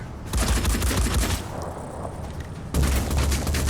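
Incoming gunfire in the turn-based strategy game Phoenix Point, rapid bursts of close, loud automatic shots with heavy low thumps, a brief lull, then another dense volley.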